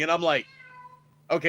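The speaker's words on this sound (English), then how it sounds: "That's my cat." A house cat gives a single drawn-out meow, clear and close, between short bursts of a person talking.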